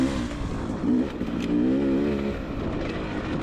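A Beta dirt bike engine revs while being ridden, heard fairly faintly with a buzzing note that rises and falls in short throttle swells.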